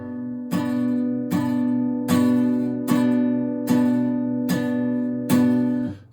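An electric or acoustic guitar strummed repeatedly on the sixth and fourth strings with the fifth string choked, giving seven or eight even, full chord hits in a steady rhythm, each ringing into the next, with no voices.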